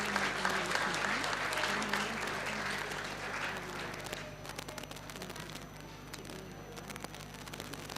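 Audience applause at an Agrasen Jayanti 2023 gathering of the Agrawal community in Latur, a steady dense clapping from a large crowd that holds for several seconds, then thins and softens toward the end.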